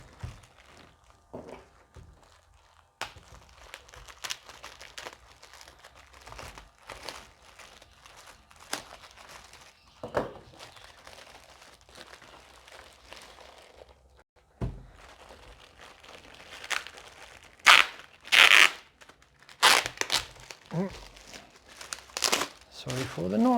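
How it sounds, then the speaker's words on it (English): Packing tape is pulled and torn off the cardboard box of a Behringer XENYX QX1202USB mixer, with scattered crinkling, rustling and several sharp ripping bursts near the end, close and moderately loud. "Let me just remove this tape."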